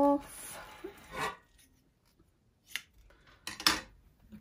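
Scissors snip through a piece of tulle fabric at a sewing table in a few short, crisp cuts, separated by quiet pauses.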